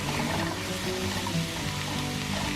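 Onions and mushrooms with a pinch of red pepper flakes sautéing in a pan on turned-down heat, a steady close sizzle with no talking.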